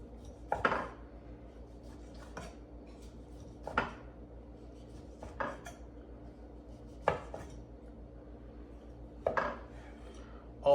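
Pork loin is sliced with a knife on a cutting board, giving sharp, separate chopping knocks at an irregular, unhurried pace, fairly close and otherwise quiet.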